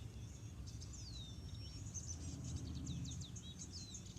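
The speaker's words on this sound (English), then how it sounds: "I hear birds." Several small birds chirp and trill outdoors in an urban concrete area with plants growing in the cracks, their high calls faint and scattered over a steady low background hum.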